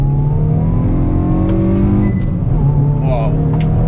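A 2022 Hyundai i20N hot hatchback accelerates hard from inside the cabin, engine droning loud and rising in pitch before easing, while people talk over it.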